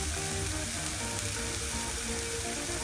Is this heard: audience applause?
no